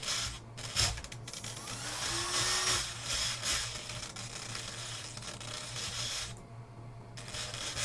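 A fan runs beside an RC servo test bench, a steady close whir with a low hum, overlaid by intermittent mechanical buzzing and rubbing noises.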